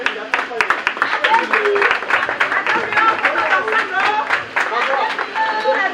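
An assembly audience at a general meeting ceremony applauds to approve decisions, a loud steady patter of clapping with a speaking voice audible over it.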